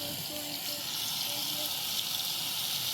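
A small camping stove sizzling while food cooks, a steady hissing fry with a faint tonal hum, low and continuous, with voices faintly in the background.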